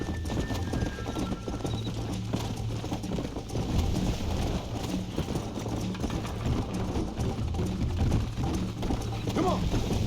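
Horse hooves clip-clop steadily at a gallop in the Red Dead Redemption video game, a fast, even rhythm under a low ambient rumble, with faint game sounds around it.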